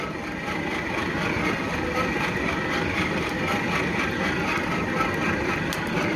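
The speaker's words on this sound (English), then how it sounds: "Oh, that's way better than that little blower I had." A Buffalo Forge hand-crank blower pushes air into a charcoal and wood forge fire, making a steady, close whirring rumble that holds even and unbroken throughout, with no talking.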